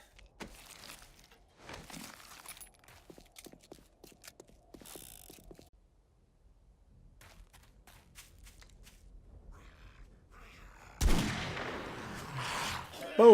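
Magnum revolver fire at zombies in 7 Days to Die: quiet clicks and mechanical handling first, then a loud sudden shot near the end, with another sharp burst right at the close.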